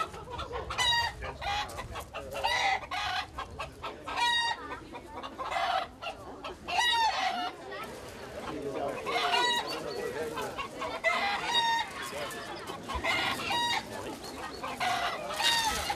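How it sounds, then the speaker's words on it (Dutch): Many roosters crow one after another at a traditional crowing contest at a café in the Dutch countryside, with clucking and farmyard noise filling the gaps between overlapping calls, some close and some farther off. "31 hanen kraaiden uit volle borst om de eerste plaats te behalen."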